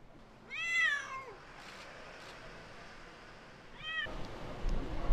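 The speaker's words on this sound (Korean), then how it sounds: "비중을 차지하는 것은 바로 고양이 울음소리다." A stray cat meows loudly twice, a long wavering cry near the start and a shorter one later, with steady outdoor background hiss between calls.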